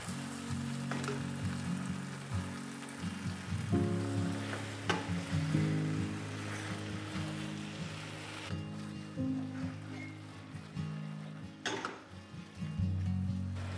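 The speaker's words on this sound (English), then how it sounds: "Saute for another minute." Vegetables and bean sprouts with noodles sizzle and crackle steadily as they sauté in a hot pan, with a few clattering stirs and knocks of the utensil mixed in.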